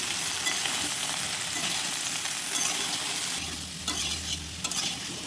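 Potatoes and ridge gourd sizzle in a hot pan as a spatula stirs and turns them, giving a constant frying hiss with scraping sweeps and a few light clinks up close, no voices.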